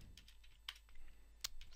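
Soft clicks of typing on a computer keyboard, irregular keystrokes at a quiet, close distance with no talking.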